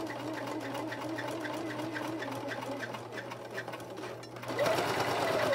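A sewing machine stitches an 18-inch doll dress, running in a steady rapid rhythmic whir with a constant hum, then briefly pausing before resuming with a louder burst.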